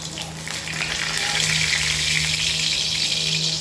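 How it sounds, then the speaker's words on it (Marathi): Cumin seeds dropped into hot oil, a loud, dense, steady crackling sizzle that swells slightly and holds throughout, with no speech over it. "तर आता आहे ना तेल मस्त गरम झालंय, त्याच्यामध्ये मी जिरे टाकणार आहे"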